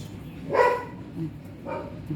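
Dogs bark in two sharp bursts, one louder near the start and a second shorter one a moment later, set against a low background hum.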